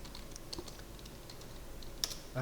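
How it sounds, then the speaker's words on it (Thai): Light typing on a computer keyboard during a Yii 2 programming session, soft scattered key taps over a steady background hiss, faint and close, with no voices. "พิมพ์ใกล้เสร็จแล้ว"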